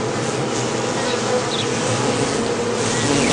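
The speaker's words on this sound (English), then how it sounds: "the guard bees furiously bite at his legs" Honey bees buzz inside a hive, a dense, continuous droning hum from many insects, loud and close with no pauses.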